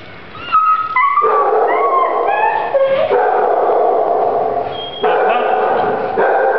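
Dogs and a puppy at a shelter, loud and close, with a continuous high whimpering and yelping that wavers in pitch and breaks off and resumes several times over a few seconds.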